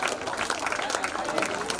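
Dense, continuous clapping from an audience fills the air at a temple Kumbhabhishekam festival dance performance for Sri Lakshmi Narasimha Perumal in Puliyangudi, steady and crowd-wide without a break.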